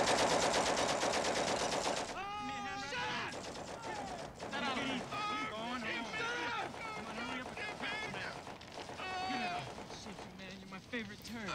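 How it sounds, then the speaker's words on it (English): Machine gun fire from the war film Full Metal Jacket runs through the scene, loud and sustained, tangled with shouting and other battle sounds while people talk over it. "And look at the gunner. He's just a shooting."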